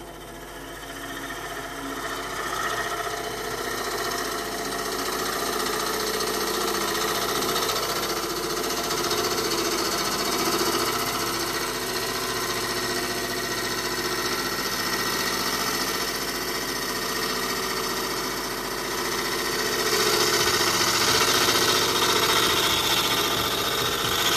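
A wood lathe turns a cherry bowl while a 19 mm gouge roughs it down, a steady loud motor drone with a continuous scraping, buzzing cut layered over it.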